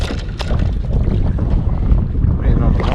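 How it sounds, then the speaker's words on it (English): Strong wind buffets the microphone out on an estuary flat during kayak fishing, a steady low roar with gusting rumble across the whole stretch and faint water movement beneath it. "We're battling the wind."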